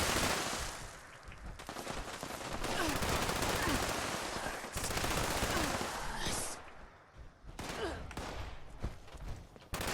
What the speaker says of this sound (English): Don't be shooting, my friends!